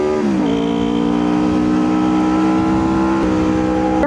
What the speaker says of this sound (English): pretty sure far too many cars are going through